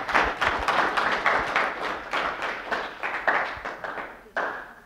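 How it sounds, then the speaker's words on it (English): A small seminar audience gives a round of applause, quick, loosely rhythmic hand claps at moderate distance that taper off, then end with a final burst. "Give me a round of applause."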